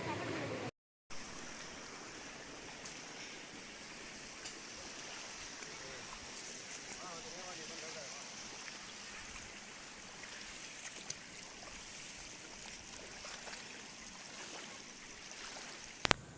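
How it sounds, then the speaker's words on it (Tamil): Mottampatti waterfall in a dense forest at the foot of a hill, a steady broadband rush of falling water, moderately distant and even throughout, briefly cut out near the start. "மோட்டாம்பட்டி ஃபால்ஸ்."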